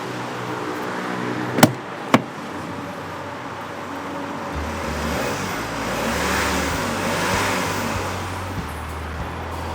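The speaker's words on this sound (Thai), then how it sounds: "เดี๋ยวผมขออนุญาตเร่งเครื่องให้ฟังกันดีกว่า" The 2.5-litre diesel engine of a 2013 Hyundai H1 van idles loudly up close, then revs up and holds a rougher, louder drone, after two sharp clicks early on.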